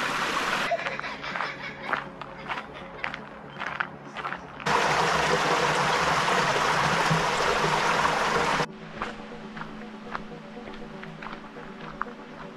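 A crystal-clear stream flows over a leaf-covered bottom near Silver Falls in Hobart, with trickling and splashing water close by, swelling into a loud steady rush midway before settling back to lighter patter.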